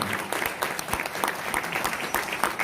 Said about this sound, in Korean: 한번 크게 박수 한번 보내주시기 바랍니다